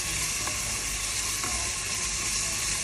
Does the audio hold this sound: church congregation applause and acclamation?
no